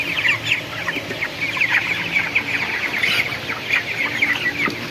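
Chickens cluck continuously in quick, clipped bursts, several birds close by, with no talking.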